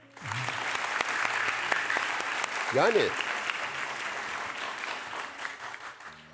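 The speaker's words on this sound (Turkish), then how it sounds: "Hadi onu da alkışlayın" Audience applause fills a Turkish religious talk on what to do for Palestinian brothers, a steady wash of clapping throughout with a voice briefly heard over it.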